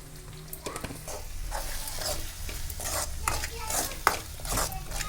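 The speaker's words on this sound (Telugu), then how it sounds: "టమాటా మంచిగా ఫ్రై అయింది, ఆయిల్ కూడా పైకి తేలింది" Tomato masala spiced with chili powder and salt frying in oil in a pan, with close, repeated stirring scrapes over a soft steady sizzle.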